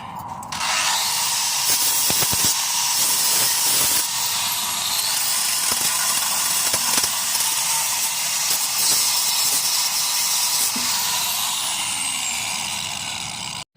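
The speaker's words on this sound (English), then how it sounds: "I've got my flap disc in my little angle grinder, so I'm just going to dress that up and clean it up there now." A small angle grinder fitted with a flap disc cleans corrosion off a steel trailer spring hanger bracket, producing a loud, continuous high grinding whine that runs steadily for over twelve seconds with slight pitch wavers as the disc bites the metal.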